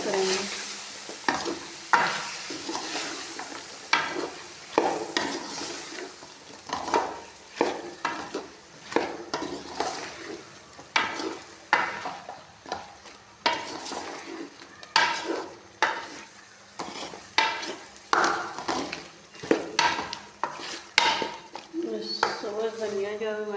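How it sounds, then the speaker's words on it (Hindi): Potato and eggplant curry sizzles in a pan while a spoon stirs it in repeated scraping strokes, close and lively, with someone talking over the cooking. "अच्छे से मिक्स करेंगे।"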